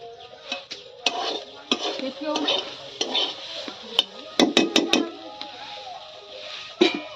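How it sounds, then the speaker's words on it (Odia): Eggplant and potato slices fry in a pan, with close sizzling under repeated metal stirring and scraping clinks, several sharp utensil knocks in quick succession near the middle, and a voice talking throughout. "ସକାଳୁ ସକାଳୁ ବାଇଗଣ ଭଜାକୁ ଆଳୁ ଭଜା"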